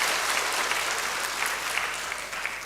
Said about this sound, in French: je voudrais que vous l'honoriez à travers vos applaudissements